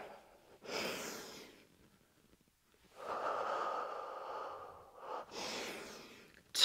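Deep, forceful breaths during a mat Pilates workout: a long exhale, a longer drawn breath, then another sharp exhale, close and fairly quiet with short pauses between.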